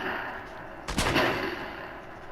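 Gunfire in the video game Fortnite: a single sharp burst of shots about a second in, loud against a steady background of game ambience, with no talking.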